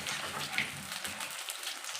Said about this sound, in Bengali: তার জন্য আমি আলুটা ভেজে নেব